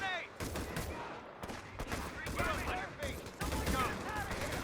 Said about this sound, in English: BAR's chewing them right up.